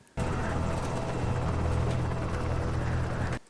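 A helicopter's rotor chops in loudly and steadily for a few seconds, then cuts off abruptly.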